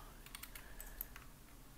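Quiet typing on a computer keyboard while working in 3D modelling software, a short run of soft, close key clicks with no talk.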